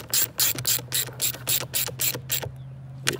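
A ratchet tightens a 10 mm ground bolt on a Predator 3500 generator, giving about ten fast, loud, evenly spaced clicking bursts and then one last click after a short gap, with a faint steady hum underneath.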